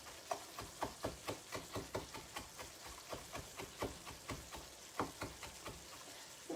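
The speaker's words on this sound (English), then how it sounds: "And you do want to mince your parsley. So chop, chop, chop." Knife chopping and mincing fresh parsley for chicken piccata, a steady run of about twenty crisp, close taps on a cutting board, evenly spaced and alone without talk.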